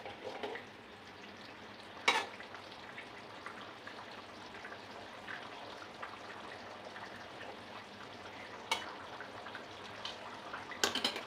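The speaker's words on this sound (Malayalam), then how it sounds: "നന്നായിട്ട് തിളച്ചു" A chicken curry bubbles quietly in a covered pot over a lowered flame, a soft continuous simmer broken by a few sharp clicks and knocks.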